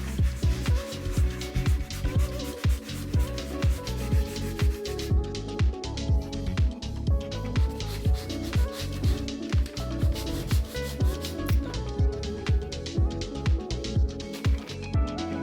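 Hand sanding of wood boards patched with wood filler on an accent wall, producing steady back-and-forth rubbing strokes in a regular rhythm, close and fairly loud, with no talking.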